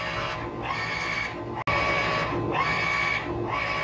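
A model 381 t-shirt printer with four white heads runs a single-pass print, giving a steady mechanical whir with rhythmic carriage sweeps back and forth and one abrupt brief cutout midway.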